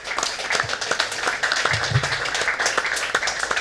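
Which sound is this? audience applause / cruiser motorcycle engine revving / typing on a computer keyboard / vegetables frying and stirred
audience applause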